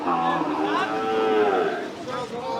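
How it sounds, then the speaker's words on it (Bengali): A large, well-built cow at a busy Qurbani cattle market moos in one long, loud, drawn-out call, with faint crowd chatter in the background. "বেশ বড় সাইজের গরু সুঠামদের গরু"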